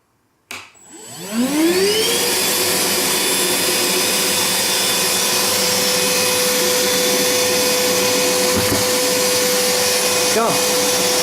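Ozito 18V wet/dry vacuum cleaner switching on and spinning up to a steady, loud whine with a strong rising tone, running continuously while sucking up tissue, with a brief change in pitch near the end.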